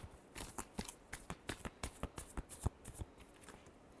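Tarot cards being shuffled by hand, a rapid run of crisp, close riffling slaps and flutters in uneven bursts, quiet and alone with no talking.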